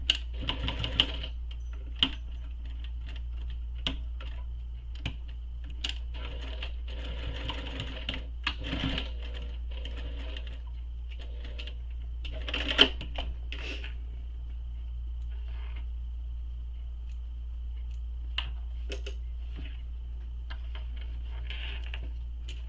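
A sewing machine stitches across the end of a zipper on a shoulder bag, faint intermittent ticking bursts of the needle over a low steady hum, quiet and close with pauses between runs.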